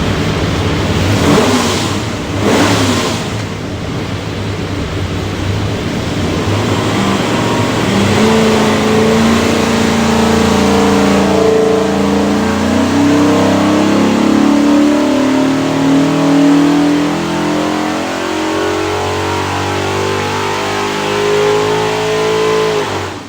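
A carbureted all-aluminum 427ci small-block Ford with a Quick Fuel carburetor on a dyno, loud and close: a rough blipping idle, then a long sustained pull with the engine note climbing steadily before cutting off.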